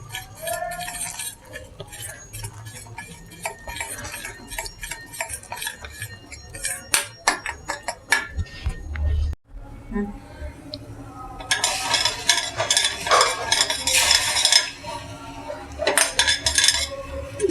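Metal spoon clinks and scrapes against a pan while pudding mixture is stirred and cooks to brown, a busy run of rhythmic knocks and rattles with a brief pause partway, close and fairly loud.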